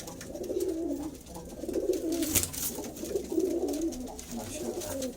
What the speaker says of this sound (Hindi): ये हमारे सिमी वाले कबूतर हैं